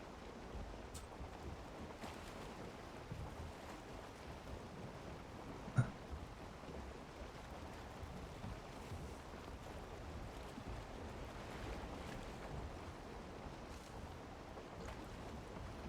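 A sailing boat cuts through open sea waves in a Norse-flavored video game, with steady wind and water wash holding a constant level throughout, plus one brief knock partway through.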